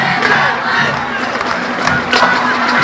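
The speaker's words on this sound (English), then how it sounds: "We have had a tremendous crowd on hand here at Mainland High School" Crowd at a 2008 high school football game between Mainland and Holy Spirit at Mainland High School, heard as a dense, loud roar of packed stands with shouts and cheering swells, under a commentator's voice.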